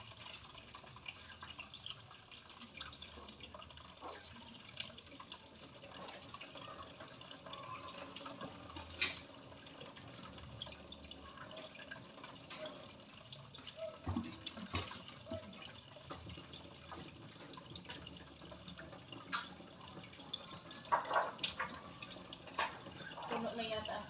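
Tap water pours into a container in a home kitchen, a thin steady trickle with scattered drips and clinks, moderately close and fairly quiet.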